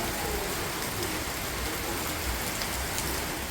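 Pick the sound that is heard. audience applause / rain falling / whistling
rain falling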